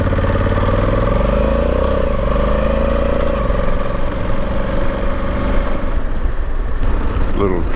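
A Honda Africa Twin DCT motorcycle pulls away and rides on, its engine note rising through shifts from a low idle-like rumble to a steady cruising drone with wind noise.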